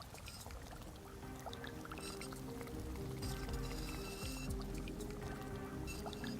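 Water drips and trickles in Vampyr, heard as faint, irregular liquid plinks and pours over a steady low background hum, all quiet and fairly distant.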